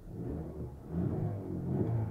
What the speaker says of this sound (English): Kind of revving it a little bit,